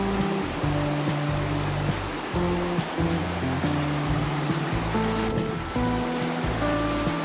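A mountain river rushes steadily during a rainy-season hike on Gunung Tandikek, a broad continuous wash of water heard close by, with tonal music playing over it throughout.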